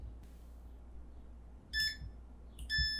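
Two short electronic continuity beeps from a multimeter probing a fuel injector circuit on an engine control unit, sharp and high-pitched over a low hum, the second longer than the first.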